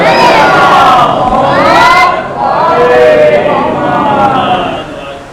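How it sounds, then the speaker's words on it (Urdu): A crowd at a Muharram majlis loudly recites salawat in unison, a surging chorus of many voices that swells, dips briefly, then rises again before fading. "ایک اور مرتبہ بلند آواز سے صلوات پڑھ دی"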